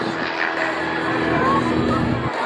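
A Pitts stunt biplane with a 245-horsepower engine performs an aerobatic demo at an evening aviation event at New Garden airfield, its engine a loud, steady droning roar throughout.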